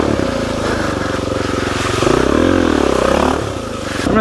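Dirt bike engine droning loud and close while riding a slick, muddy off-road trail at an off-road park, with a rising rev in the middle and the tires churning through mud.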